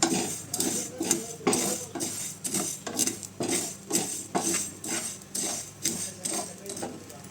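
Mustard seeds, bitter fenugreek and cumin dry-roasting in a pan for lemon-chilli pickle, stirred with a spoon in a regular rhythm of scraping, clinking strokes about twice a second, close and moderately loud, with no talking.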